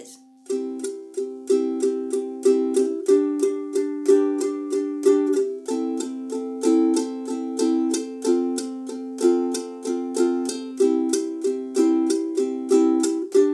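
A ukulele strums the chords of a song in steady all-down strums, a quick even rhythm of bright chord hits with occasional chord changes, close and solo without talk.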